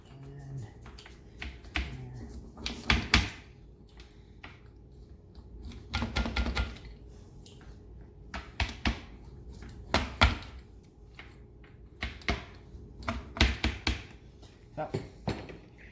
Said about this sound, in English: So we're just gonna cut this here.